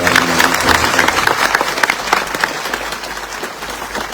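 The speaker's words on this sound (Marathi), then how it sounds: "आपण कडकडत टाळ्या वाजून त्यांचं मनापासून" A large crowd at a Maratha reservation protest gathering claps vigorously for members of the print and electronic media, sustained loud dense applause throughout.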